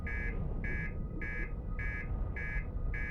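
A steady electronic alarm in the video game Outer Wilds beeps in a regular pulse, about six evenly spaced tones over a constant low rumble, with no talking.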